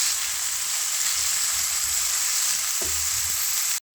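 Three large chopped onions sizzle steadily in hot oil, a constant close hiss with faint stirring clinks near the end before it cuts off.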